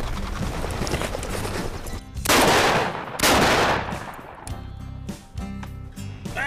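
Loud shotgun blasts during a duck hunt on a river bend, two close booming shots a second apart followed by fainter sounds, with no talk.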